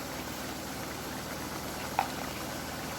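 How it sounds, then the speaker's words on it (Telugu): Minced-meat kima curry with tomato pieces and salt simmers in a pot as its water reduces, giving a steady, even bubbling hiss with a couple of faint clinks. "ఇలాగా ఒక 10 నిమిషాలు ఉడకనివ్వాలన్నమాట, వాటర్ అంతా దగ్గరికి అయ్యేటట్టు"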